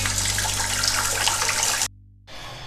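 Water pours and drains off boiled moringa (sohanjna) flowers in a steady, close, full rush that stops abruptly, then a quieter trickle follows briefly.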